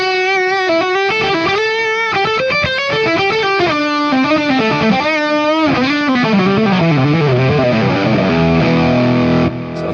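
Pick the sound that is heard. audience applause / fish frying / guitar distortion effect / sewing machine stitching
guitar distortion effect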